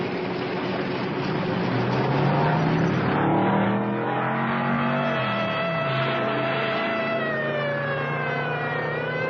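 A black convertible hot rod speeds past, its engine revving with rising and falling pitch as it accelerates, loud and up close, with no voices.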